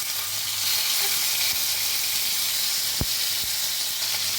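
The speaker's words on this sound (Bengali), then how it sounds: "এখন আমি কড়াতে মোটামুটি 2 বড় চামচ তেল নিয়েছি, তার মধ্যে এই চিকেনগুলোকে আমি ফ্রাই করব।" Chicken pieces fry in about two spoons of oil in a kadai over medium heat, a constant near hiss and sizzle with a couple of faint knocks and one sharp tap.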